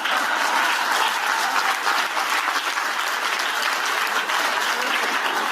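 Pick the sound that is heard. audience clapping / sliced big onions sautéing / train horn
audience clapping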